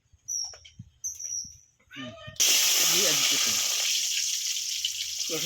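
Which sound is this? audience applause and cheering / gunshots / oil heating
oil heating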